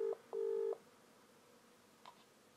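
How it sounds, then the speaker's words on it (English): A video call rings out as two electronic tone bursts, one brief and one longer, followed by a faint click, with quiet room tone between. "It's ringing."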